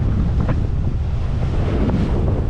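Strong wind buffets the microphone as waves wash steadily around a Sea Pearl sailboat sailing near Antigua and Barbuda, a loud, continuous roar with no talking.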